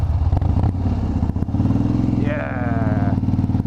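A 2016 Harley-Davidson Street Bob motorcycle idles close by with a loud, steady, lumpy throb, then a higher whining tone rises briefly over the rumble.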